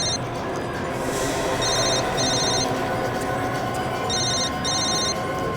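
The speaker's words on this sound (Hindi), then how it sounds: "साहब ये तो महेश का ही फोन है साहब।" A telephone rings in repeated bursts of bright electronic trills, two close pairs separated by a pause, sounding over a constant background rumble with no talking.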